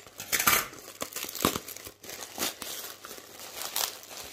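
Gift packages being opened with scissors, giving close, irregular crinkling and crumpling of wrapping with a few sharp snips and tearing bursts, no talking.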